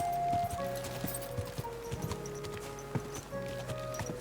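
Horse hooves clip-clop in a steady, quick rhythm in the medieval video game Kingdom Come: Deliverance 2, crisp and fairly close over a low ambient background.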